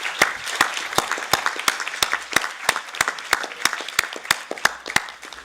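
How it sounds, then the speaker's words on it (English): Conference audience applauding panelists at a UN Asia-Pacific disability inclusion event, a brisk run of distinct, fairly close claps in an uneven rhythm, with no talking over it. "please join me in a big round of applause for our brilliant panelists today"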